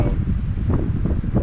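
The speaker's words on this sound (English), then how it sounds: "the wind whipping off the river right up on over the top of this rock was gnarly" Gusty wind sweeps off the river over the top of a rock formation at Taylors Falls, a loud, steady low roar buffeting the microphone from start to finish.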